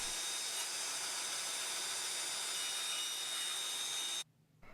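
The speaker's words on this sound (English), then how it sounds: "Then I can take it to the bandsaw and cut all those ones out." A bandsaw cuts out wooden box joints with a steady, hissing, high whir that holds level for about four seconds before stopping abruptly, leaving a faint low rumble.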